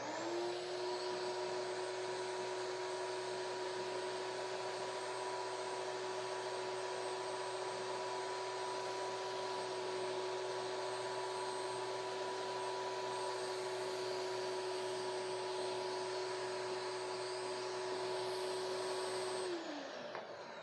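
A shop vacuum fitted with a DIY mini cyclone sucks up fine dust, roaring steadily with a strong motor whine that runs unbroken and close before spinning down at the very end.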